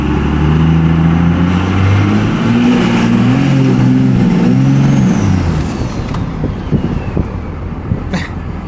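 A twin-turbo, methanol-injected Dodge Ram truck accelerates hard with a loud, rising engine roar through several gear pulls, then eases off into rougher rumbling and road noise with a few faint clicks.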